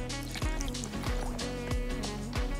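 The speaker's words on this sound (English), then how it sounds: "I want to fill my water while I'm in here" A water container fills in the survival game Icarus with a liquid gurgle and trickle, broken by several soft thuds at a loose, uneven rhythm, close and moderately loud.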